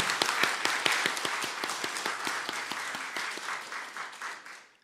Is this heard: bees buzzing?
no